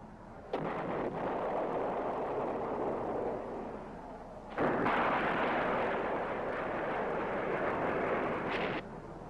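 Bombs and rockets exploding during Vietnam War strafing make two long, loud roaring blasts, each starting abruptly and rumbling for several seconds with a brief dip between them.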